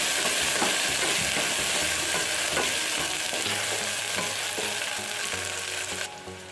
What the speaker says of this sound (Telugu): అల్లం వెల్లుల్లి పేస్ట్ అయినంత వరకు వేగనివ్వాలి